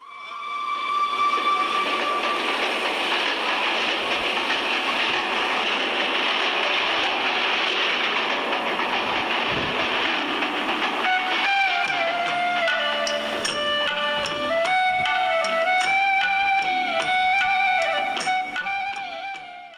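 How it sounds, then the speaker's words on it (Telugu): A train horn sounds over a rolling train in a scene from Mani Ratnam's film Dalapathi, heard as a long, loud, sustained wail that shifts pitch partway through, with no talking. "మనకి బ్యాక్ గ్రౌండ్ లో ట్రైన్ హార్న్ సౌండ్"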